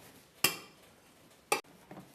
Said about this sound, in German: Als erstes machen wir ein bisschen Butter in die Pfanne.